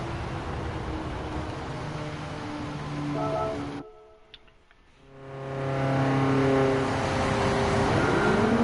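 Race car engine in Gran Turismo 7 revving loud and steady, cutting out sharply for about a second during an upshift, then climbing back in pitch at the next gear, close and continuous.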